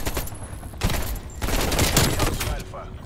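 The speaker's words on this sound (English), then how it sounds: "Well, this AK is actually good." Rapid AK rifle bursts from Call of Duty: Black Ops Cold War gameplay, firing in several dense volleys with brief gaps, loud and close with game effects behind.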